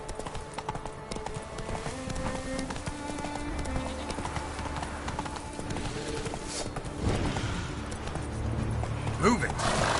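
Hooves clip-clop in a quick, steady galloping rhythm as a horse runs in The Witcher 3 video game, close and continuous, with a voice speaking over the hoofbeats.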